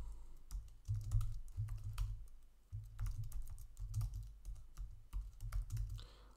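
Someone types code on a computer keyboard in quick bursts of soft, close key clicks, broken by short pauses, with no voices.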